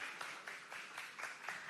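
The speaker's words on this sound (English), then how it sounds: "Round of applause for Nina, please." Light applause for a keynote speaker at the WalletCon 2024 crypto conference: sparse, rhythmic claps in a steady beat, fairly quiet, with no crowd roar behind them.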